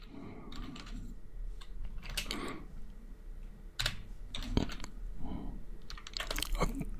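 Keys on a computer keyboard clatter while HTML and CSS code is typed, with scattered bursts of clicks and short pauses, close up, with faint background noise and some mouth or shuffling sounds between strokes.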